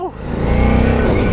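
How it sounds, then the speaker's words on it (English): A Harley-Davidson Street 500 motorcycle with stock exhaust accelerates hard, a loud close buzzing engine note that climbs steadily in pitch across a brief burst. "That sound that it makes with the stock exhaust"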